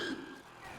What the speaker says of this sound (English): I hear a hunter.